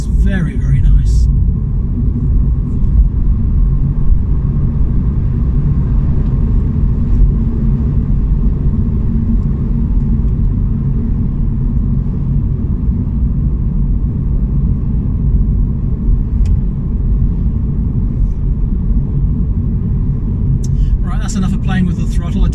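A Mini Cooper SE electric car accelerating on the road, a loud, steady low rumble of road and cabin noise that holds throughout, with brief bursts of brighter noise at the start and end.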